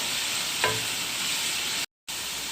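Mutton cooks in a pot with whole spices and coriander, giving a steady, close frying hiss with one soft stirring scrape. The sound cuts out briefly near the end, and nobody talks.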